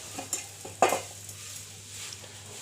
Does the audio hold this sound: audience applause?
no